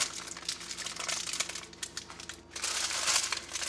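Aluminum foil crinkles and crackles continuously, close up, as it is folded over into a tent-shaped foil packet holding a taco chicken dinner.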